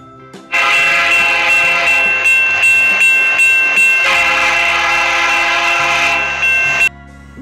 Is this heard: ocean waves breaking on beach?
no